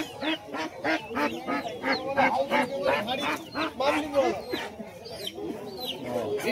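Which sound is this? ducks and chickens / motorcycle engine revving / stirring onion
ducks and chickens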